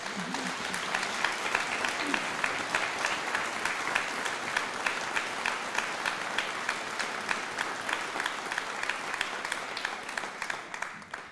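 Audience applause at a men's choir anniversary concert, a dense, steady wash of many hands clapping that fills the hall without a break, loud and close, with a voice faintly heard at the very start.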